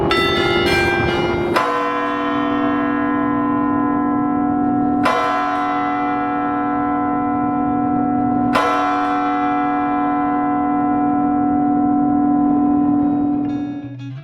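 A church bell swinging high in a Reykjavik church tower, three loud resonant strikes a few seconds apart, each leaving a long humming ring that hangs in the air, heard very close with no talking.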